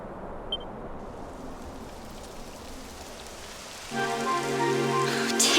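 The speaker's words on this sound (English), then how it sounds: "Typical. It would have to go and start raining," Rain begins falling in the Dragon Quest 11 game world, a steady hiss of broadband noise that swells louder partway through as a tonal music or ambient layer joins, with no talking.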